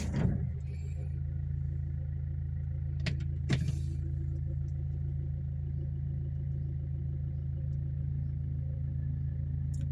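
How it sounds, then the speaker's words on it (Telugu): A Hyundai Verna engine starts on a single crank and settles into a steady, even idle heard close by, with a couple of sharp clicks and people talking. "సో సింగిల్ సెల్ఫ్లో స్టార్ట్ అవుతుంది, ఎలాంటి స్మోక్ కానీ ఎలాంటి బ్యాక్ కంప్రెసర్ కానీ ఎలాంటిది లేదు"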